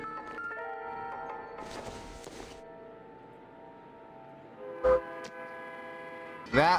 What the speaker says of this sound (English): That was the train. We are nearby the tracks.